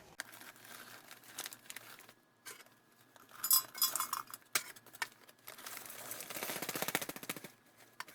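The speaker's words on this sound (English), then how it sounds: "I'm just going to go ahead and dump all the contents into this canteen cup" Freeze-dried beef stew from a 1979 Long Range Patrol food packet poured into a metal canteen cup, with crinkling of the packet and dry rattling clinks and patters in irregular bursts, fairly quiet and close.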